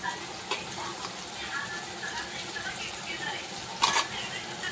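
Ginger-garlic and onion paste sautéing in a pan for chole, a steady soft sizzle with faint stirring scrapes and a short clatter near the end, no voices.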